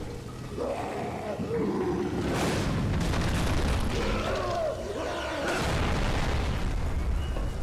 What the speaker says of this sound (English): That explosion is very, very satisfying.